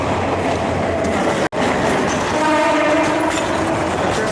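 A train rumbles by at night at the Nakhalpara–Mohakhali railway crossing, with steady, loud wheel noise and a brief horn-like tone, heard close; a sharp cut breaks the sound midway.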